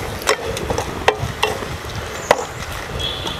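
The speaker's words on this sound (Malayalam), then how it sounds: "ഇനി അതൊന്ന് ഇതിൽ സെറ്റാവാൻ വേണ്ടി നമ്മൾ ഇളക്കി ഇളക്കി കൊടുക്കണം" Eggplant dish stirred in a hot pan: scattered spoon scrapes and knocks against the pan over a steady low sizzle, a handful of sharper clacks spaced irregularly, fairly close.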